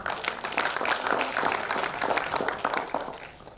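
Conference audience giving a round of applause for a speaker being introduced, brisk continuous clapping from many hands in a hall, even and moderately loud throughout.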